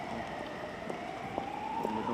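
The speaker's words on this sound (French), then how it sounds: "Sirène hurlante des fourgons ou des voitures banalisées, ceux qui sont attendus s'entendent de loin." Police van sirens wail at a distance near a cordoned-off security perimeter, a faint steady rising tone over a constant street hum.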